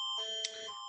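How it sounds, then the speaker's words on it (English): A BC emergency alert alarm sounds as a steady, loud electronic two-tone blare that holds for the whole second with a brief blip in the middle. "that's the emergency alarm for BC going on"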